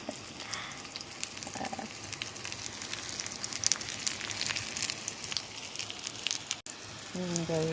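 Peanuts fry over a strong fire with a steady crackle and sizzle, close and constant for several seconds, with faint clatter at times.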